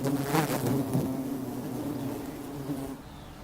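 Honey bees hum in flight, a dense buzzing drone that is louder at first and gradually thins out, fairly close and with no voices over it.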